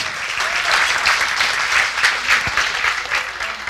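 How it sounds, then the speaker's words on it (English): A live audience in West Seattle breaks into a steady round of applause, dense clapping spread evenly through the room and sustained at moderate loudness with no voices on top. "How many people here, round of applause, live in West Seattle?"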